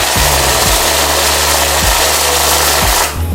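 A Prime Ecomac MC 500 VM money counting machine runs at high speed, giving a loud, steady mechanical whir with a periodic thump roughly every second, stopping abruptly at the end.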